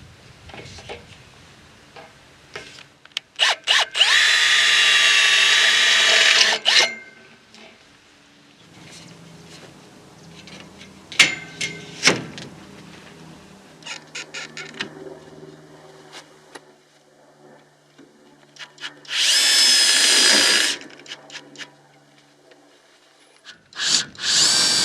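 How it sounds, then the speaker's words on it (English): Two loud bursts of power drilling through metal, each a few seconds long, separated by clicks, knocks and handling noises at close range, during high tunnel construction. "we drill right through the center of this piece"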